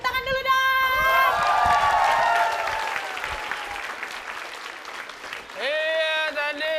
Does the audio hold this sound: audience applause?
yes